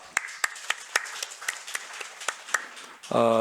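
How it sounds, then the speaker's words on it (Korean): Sparse, individual hand claps from a small church congregation during Sunday morning worship, about a dozen distinct claps spaced irregularly and fairly close, ending in a short burst of other sound. "격려의 박수 하겠습니다."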